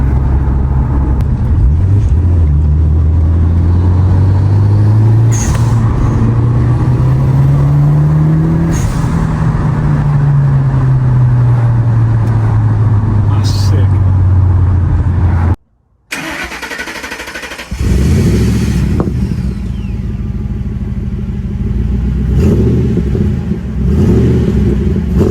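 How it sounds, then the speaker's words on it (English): A car with a manual gearbox and an aftermarket flat-bottom steering wheel is driven hard, its engine loud and close as the revs climb and fall, then a brief drop in sound during a notchy gear change before it pulls again. "Some very notchy gear changes, but all part of the raw driving experience"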